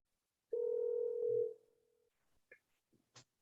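A steady phone ringback tone holds for about a second and then fades out, followed by a few short soft clicks and blips on the line.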